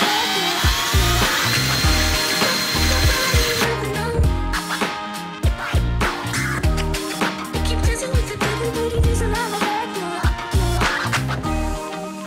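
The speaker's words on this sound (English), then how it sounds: "drill a hole for this map sensor, tap a hole for the screw here, and then tap a couple places for vacuum ports" A power drill bores into an aluminum intake manifold, loud and close, with steady whirring broken by repeated bursts and pauses as the bit bites into the metal.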